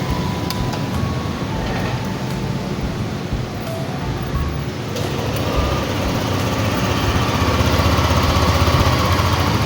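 Yamaha Aerox 155 scooter engine running during a test, a steady rough idle with a low rumble, close by, growing slightly louder midway.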